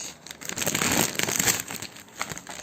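Thick bubble-wrap packaging around a Xiaomi Redmi phone being handled and opened, close, loud crinkling and rustling in uneven bursts that fade toward the end, with no speech.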